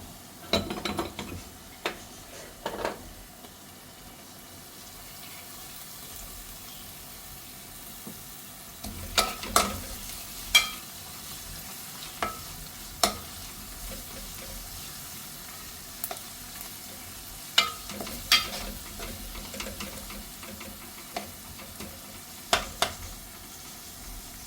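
Crushed ginger and garlic frying with browned onions in very hot oil for chicken masala curry, a steady close sizzle punctuated by scattered sharp scrapes and clinks of a spoon against the pan.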